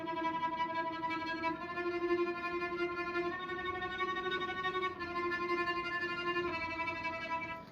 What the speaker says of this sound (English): It can sound kind of quiet and mysterious as well, tremolo.